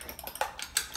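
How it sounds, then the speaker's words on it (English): A fork stirs and fluffs krumkake batter in a bowl, giving a few light, close scraping clinks against the dish in short irregular bursts. "right now the sound effects are good, right? We have stirring and fluffing"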